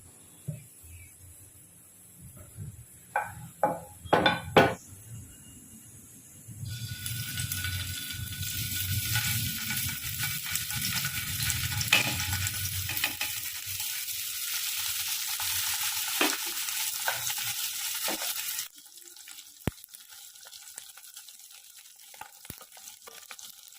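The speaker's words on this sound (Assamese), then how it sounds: "এতিয়া পনীৰ কেইপিচ ফ্ৰাই কৰি লওঁ" Paneer pieces fry in hot oil in a kadai, a steady broadband sizzle rising after a few sharp clatters and stirring knocks, holding loud for about twelve seconds before cutting back to quiet scattered clicks.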